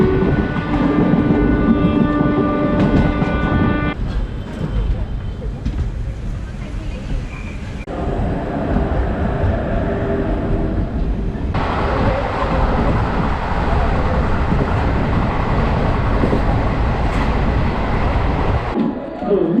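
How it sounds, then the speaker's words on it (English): Interior of a passenger train travelling from Amravati to Bhusawal in India, a steady rumble and rattle of the carriage with shifting noise levels, a voice speaking over it in places. "Inside the first train, which leaves from Amravati and takes me to Bhusawal."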